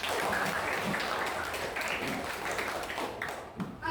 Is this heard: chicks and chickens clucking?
no